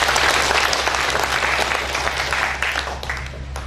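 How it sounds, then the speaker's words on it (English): Audience applause after school performances at a project film launch, a dense steady clapping from a large crowd that holds strong and fades slightly toward the end. "So maybe everyone should give themselves a clap because you did a fantastic job."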